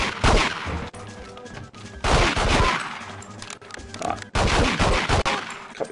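Gunshots from a Wolfram P2K pistol in a video game come as three loud, close bursts of sharp reports, each with a short echoing tail.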